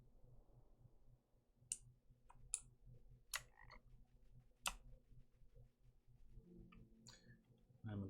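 A green frog croaking in a video game, with short sharp clicks scattered over a soft, steady low rhythmic backdrop, fairly quiet and without talk.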